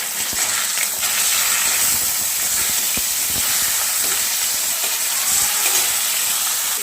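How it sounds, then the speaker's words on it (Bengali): Pieces of rohu fish frying in hot oil, a loud steady sizzle and crackle with occasional sharper pops, continuous throughout with no talking. "তেলটা গরম হয়ে গেছে। আর দিয়ে দিচ্ছি মাছগুলোকে। খুবই হালকা করে ভেজে নেবো।"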